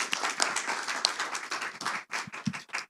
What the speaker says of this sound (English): Will you please give a round of applause to our wonderful speakers?